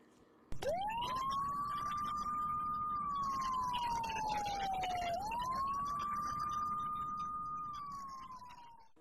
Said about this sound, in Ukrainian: Як звучить сирена?